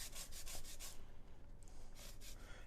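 Lime being zested on a grater, quick rhythmic rasping strokes close up, a run of about six quiet scrapes, a short pause, then three more, with no talking.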